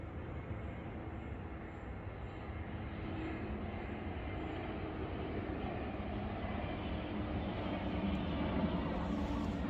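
A propeller or jet airplane flying over autumn woodland near Luton Airport, a steady, fairly distant low rumble that holds evenly throughout with no talk.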